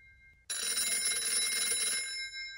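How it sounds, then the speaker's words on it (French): Telephone bell ringing in a museum in East London, South Africa, in 1938: after a brief quiet start, a loud, sustained electric ring sounds close by and continues without pause for about two seconds. "le téléphone résonne entre les vitrines du musée d'East London"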